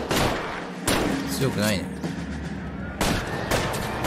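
Heavy shotgun blasts in the L.A. Noire video game, several loud, booming shots spaced a second or two apart with a rumbling tail, mixed with game voices and someone talking over them.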